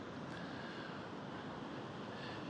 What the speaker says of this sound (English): the sounds of the waves coming in gently as they are now